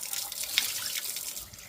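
Tap water running steadily into a sink while homemade blender butter is rinsed, a soft continuous splashing flow with a brief drip accent, no speech.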